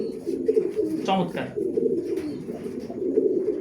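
Racing pigeons coo softly and continuously at close range, a low steady murmur under a man's speech.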